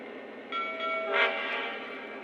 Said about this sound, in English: until you get a whistle and a bell